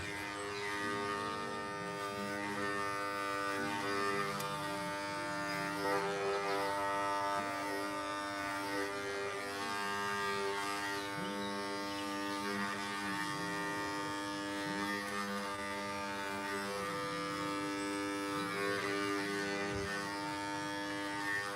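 An electric safety clipper buzzing steadily while trimming a Siberian cat, a continuous close hum with small changes in pitch as it moves through the fur, no talking.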